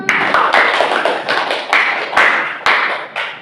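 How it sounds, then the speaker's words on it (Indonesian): Hands clapping together in a classroom at the close of a lesson, a quick series of sharp, close claps in an uneven group rhythm, loud and with no talk over them. "Tepuk tangan buat kita semua."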